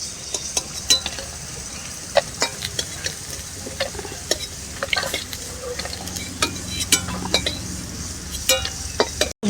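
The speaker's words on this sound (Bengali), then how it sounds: "বড়াগুলো ভাজা হয়ে গেছে, আমি বড়াগুলোকে নামিয়ে নেব।" Drumstick and chickpea-lentil fritters are lifted from a hot pan of oil, with a steady sizzle of frying under repeated sharp metal clinks and scrapes of a spatula against the pan, close and fairly loud.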